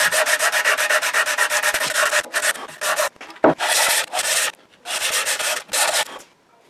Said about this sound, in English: now I'm finishing it off with a 220 grit, then I'll do some hand sanding.